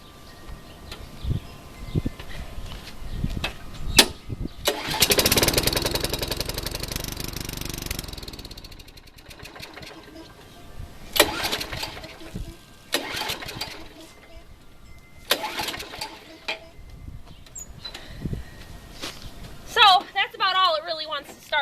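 A push lawn mower's small engine cranks with a pull-start rattle and briefly sputters, then a few shorter revving bursts follow amid clanks, while someone talks nearby.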